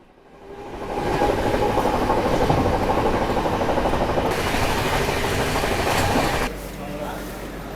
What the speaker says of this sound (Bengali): আপাতত ট্রেন ছাড়ুক।